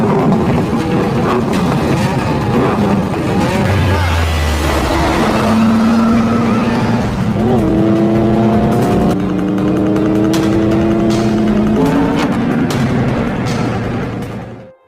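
Race cars launching at the start of a death race, loud engines roaring and revving with rising pitch sweeps and a few sharp bangs, continuous and close.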